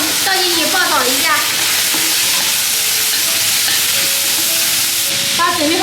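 Pork intestines stir-fried in hot oil with doubanjiang in a wok, a loud, dense, continuous sizzle and hiss right up close, with faint tonal squeaks rising through it.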